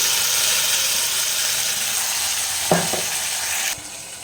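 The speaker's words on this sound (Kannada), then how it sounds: "ಇವಾಗ ನಾನು ಈ ಒಗ್ಗರಣೆಗೆ ಈ ಟೊಮೆಟೊ ಪ್ಯೂರಿ ಏನಿದೆಯಲ್ಲ ಇದನ್ನು ಆ್ಯಡ್ ಮಾಡ್ಕೊತೀನಿ" Loud, steady sizzling of tomato puree added to hot oil tempering, with a couple of clanks from stirring in a pan near the end.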